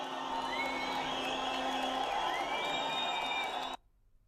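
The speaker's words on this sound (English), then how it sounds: "Impressively large crowd there from Meskel Square" A large crowd cheers and whoops at a rally in Meskel Square, Ethiopia, a dense, sustained roar with shrill whistles on top that continues steadily and then cuts off abruptly near the end.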